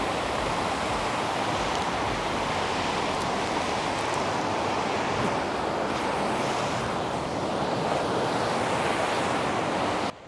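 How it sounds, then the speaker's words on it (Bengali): A strong mountain stream on the Annapurna Base Camp trek, rocky and swift near a waterfall, roars in a loud, steady, unbroken rush that fills the whole clip with no voices. "একটু রিস্কি কত পাথর আর এখানে স্রোত অনেক বেশি"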